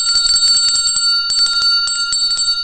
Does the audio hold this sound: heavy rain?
no